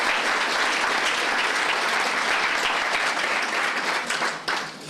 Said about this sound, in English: I think a round of applause for everyone who received the certificates tonight.